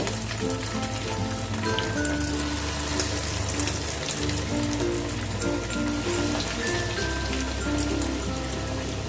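Crispy bread chicken rolls fry in hot oil over a medium gas flame, making a dense, steady crackling sizzle like rain that holds close and even throughout.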